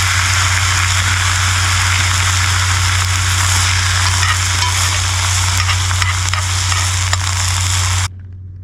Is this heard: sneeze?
no